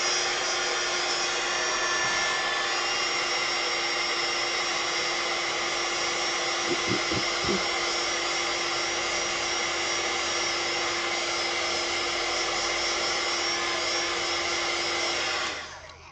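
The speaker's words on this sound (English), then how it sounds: "I am going to have to get my heat tool again and dry that off" A heat tool blows steadily to dry ink on a handmade card, a loud continuous whirring hum lasting throughout before cutting off at the end, with a few faint clicks partway through.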